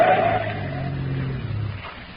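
A car rounds a curve and pulls off the road in an old radio drama: a close engine drone with tire and gravel scrape that shifts partway through and then fades, lasting about two seconds.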